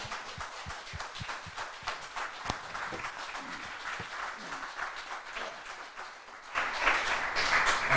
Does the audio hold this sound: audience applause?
yes